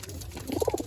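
A pigeon in a loft gives a short, low cooing phrase near at hand, alone and fairly quiet.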